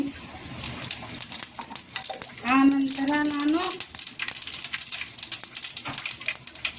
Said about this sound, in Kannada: ಎಣ್ಣೆ ಕಾಯ್ದಿದೆ ಜೀರಿಗೆ ಹಾಕ್ತಾಯಿದ್ದೀನಿ